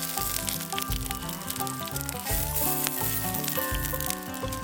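Bean curd skin fries in a pan with a steady, bright sizzle running underneath prominent background music that carries on throughout.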